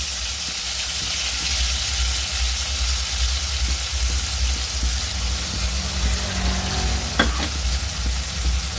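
Potato, pointed gourd and fish fry in hot oil for a Bengali fish curry, a loud steady sizzle with busy crackling spits that runs unbroken and close, with no talking.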